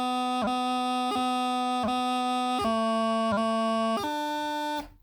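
A bagpipe practice chanter plays a short melodic phrase from the third bar, its reedy, buzzy tone broken by crisp grace-note cuts between held notes, loud and close with no speech.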